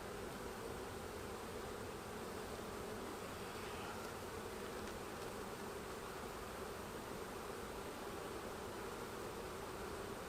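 Honeybees swarm and buzz steadily around open hive frames during a comb-drawing colony transfer, a dense, continuous drone that stays close and even for the whole stretch with no talk.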